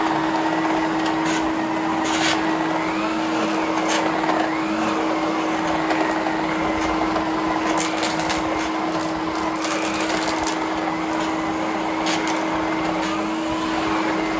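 An Electrolux 2100 Series canister vacuum fitted with an Omniflo power nozzle runs continuously with a steady motor whine and a strong constant hum, its brush roller rattling faintly throughout, close and alone with no talk.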